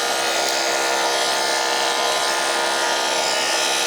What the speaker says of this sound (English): Let me turn the clipper off for a minute.